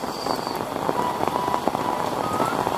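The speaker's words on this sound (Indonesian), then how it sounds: "kalau misalnya hujan seperti ini" Steady heavy rain patters on surfaces nearby in Kuningan, a continuous hiss dotted with small drop impacts, fairly loud with no one speaking.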